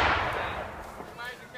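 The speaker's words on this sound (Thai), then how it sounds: "ทำการยิงปืนใหญ่เพื่อโจมตีฝ่ายเรา" Artillery fire during military field training booms once at the start and rumbles away, a distant heavy report fading over a second with faint outdoor ambience.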